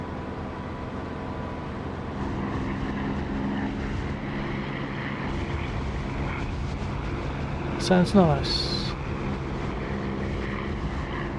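A steady propeller aircraft engine drone with rushing prop wash through an open canopy, in a flight simulator game, loud and continuous; a brief voice and a short chirp break in near the end.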